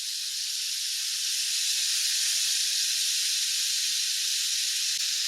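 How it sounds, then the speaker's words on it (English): Floured beef browning in a pan for old-fashioned beef stew, a steady, even sizzle that holds at the same level throughout. "And all you're doing is browning the meat."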